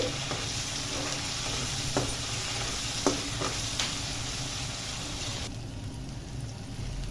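Salted tomatoes frying in a pan for poha upma are stirred with a utensil, giving a steady close sizzle broken by a few light scraping knocks, with the frying hiss dropping slightly near the end.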